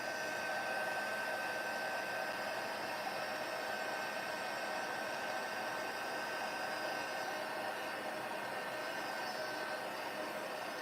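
A heat tool blows a steady, even whoosh of hot air over embossing powder on a card, a constant close rush that runs without a break and with no talking.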